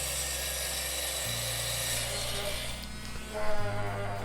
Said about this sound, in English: now I'm cutting it to the final size here